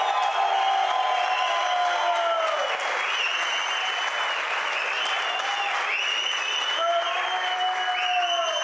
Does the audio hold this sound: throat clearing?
no